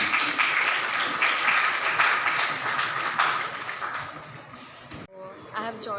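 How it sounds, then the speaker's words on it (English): Loud, dense audience applause fills a hotel hall at a university outreach event, steady for about five seconds before cutting off abruptly, followed by a voice speaking. "Ladies and gentlemen, please give a huge round of applause."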